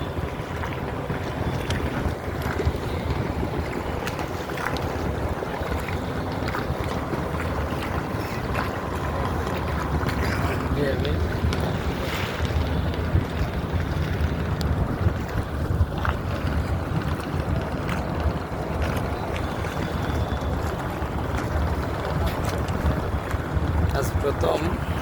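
A ferry boat crossing the river from Sadarghat toward Jinjira gives a steady, droning wash of engine, water and wind noise, close and unbroken, with faint voices now and then.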